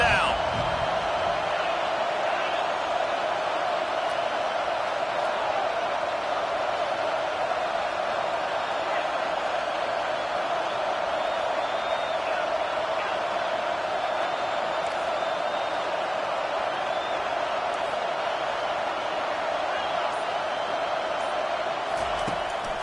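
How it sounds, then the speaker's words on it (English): Football stadium crowd on third down with the defense on the field, a broad continuous roar held at a steady level across the span, with a commentator talking over it. "Decibels rising as the crowd gets behind this defense on 3rd down."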